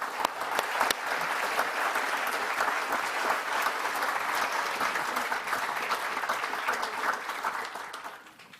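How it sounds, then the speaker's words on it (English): A conference audience applauds to welcome the Belgian Foreign Minister at an opening plenary session, steady dense clapping sustained for several seconds before tapering off at the end, with no talk over it. "Let's welcome her with a applause."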